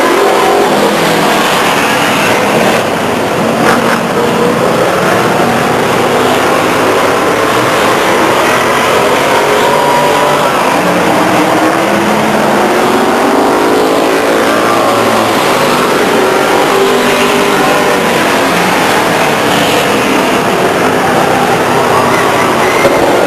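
Race cars roar around Stockton 99 Speedway in 2000, loud continuous engine howl rising and falling as the field passes through the turns, with a race announcer talking over the din.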